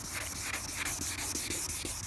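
Car paint being sanded during detailing, a close, quiet rhythmic scrubbing with quick repeated strokes back and forth.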